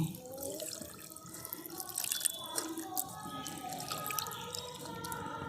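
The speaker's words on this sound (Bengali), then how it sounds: "আমি ভালো করে এই ঠান্ডা জল দিয়ে ভালো করে ধুয়ে নিচ্ছি" Cold tap water runs and splashes over chhena, fresh cottage cheese, as it is rinsed in a sink, with a close, steady trickle and drips that lift into irregular splashes.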